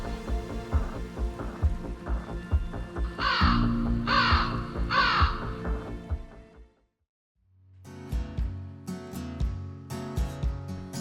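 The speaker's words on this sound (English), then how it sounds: "3 ravens looked on" Ravens let out hoarse caws in two bursts, three spaced calls first and then a rougher series after a short silence, loud and near over a busy musical bed.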